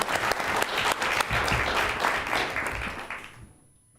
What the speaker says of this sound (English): I'd like to have a round of applause for Gabby once again.